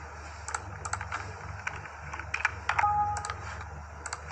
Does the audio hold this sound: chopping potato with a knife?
no